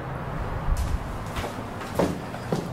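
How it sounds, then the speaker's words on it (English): A Westinghouse elevator by Schindler in a Busch Stadium parking garage slides its door shut with a few clunks and rattles, fairly close, no talking. "Door closed button worked that time."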